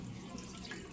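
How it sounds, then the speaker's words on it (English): Cold tap water runs steadily into a kitchen sink to rinse chicken pieces being prepared for curry brown stew, a continuous close splashing hiss with no talking. "And rinse stuff now. Cold water."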